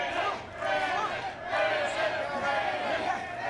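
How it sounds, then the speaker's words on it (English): A capacity crowd at an indie wrestling show cheers and roars steadily, forming a loud, sustained wash of voices with slight swells throughout. "Our capacity crowd getting well behind him here tonight."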